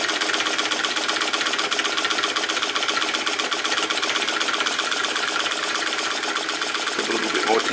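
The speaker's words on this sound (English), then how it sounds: "So the little flame licker is definitely, it's working under load, driving that" A small flame licker vacuum engine runs steadily under load while driving a Baker fan, giving a continuous, fairly loud rapid mechanical chatter with no pauses across the whole stretch.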